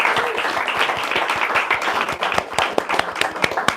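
An audience applauds after a poetry reading: dense, steady clapping from many hands that holds throughout, fairly close and full.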